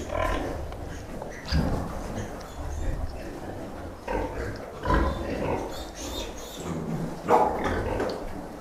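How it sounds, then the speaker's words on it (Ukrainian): Piglets in a crowded pig barn, one of about fifty-five in a farrowing area, squeal and set the others off: repeated shrill squeals and grunts in loud overlapping bursts over a constant noisy barn din, with voices mixed in. "Починає якесь поросядне кричати, і весь сарай підривається."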